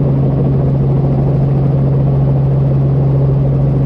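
A helicopter hovers during a flight lesson, its engine and rotor making a steady, loud drone with a strong low hum that never lets up and no voices over it.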